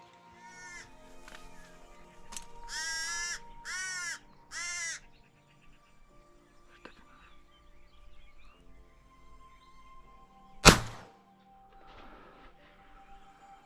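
A crow in a corvid hunting spread near Mont Saint Michel caws in a series of harsh, repeated calls, followed by a single sharp thud as it strikes a hunting decoy, with quiet outdoor background.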